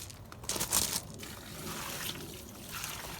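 Water trickling and pouring into a concrete mix being stirred for a DIY fence gate, a soft brief splash near the start followed by a low, faint liquid rustle.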